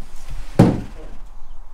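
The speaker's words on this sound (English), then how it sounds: "Locked door." A locked door in an abandoned pub being tried gives a single sharp thunk, close and fairly loud, then quick fading rattle in a quiet room.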